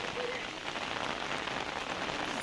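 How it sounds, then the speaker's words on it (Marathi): Heavy rain pours steadily outdoors in Hampi, a dense, even hiss of drops hitting surfaces close by, continuous and loud with no voices over it. "मोठा पाऊस पाऊस पडतोय"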